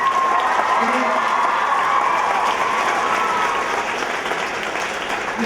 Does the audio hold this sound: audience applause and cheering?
yes